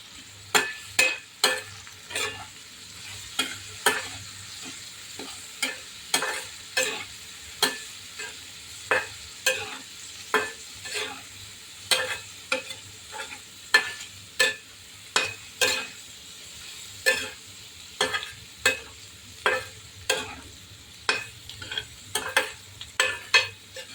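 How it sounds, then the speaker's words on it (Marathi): Dried Bombay duck fish sautéed in oil with turmeric and salt, a soft steady sizzle punctuated by regular scraping stirs of a spatula in the pan about once a second. "बोंबील छान परतवून घ्यायचा तेलामध्ये म्हणजे त्याला उग्र वास येत नाही"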